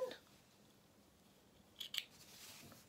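Scissors snipping loose sewing threads on a small fabric dressing gown, a couple of faint, quick close cuts in a quiet room.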